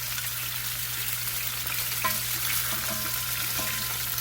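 Bacon-wrapped stuffed chicken breasts fry in a pan, producing a steady close hiss of sizzling fat over a low constant hum, with a few faint clicks and no voices.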